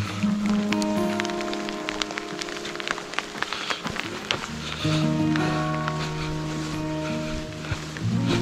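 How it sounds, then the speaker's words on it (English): Steady rain patters on the surroundings of a mountain hiking trail in the Bridger Wilderness, a constant wash of drops with scattered sharper taps close by, continuing unbroken throughout. "Yes, it's raining again."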